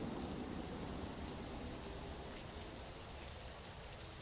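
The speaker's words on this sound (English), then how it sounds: "this map is very rainy, so it's already hard to see" Steady, soft rain hisses evenly on a stormy Left 4 Dead 2 game map, a faint continuous wash with no voices.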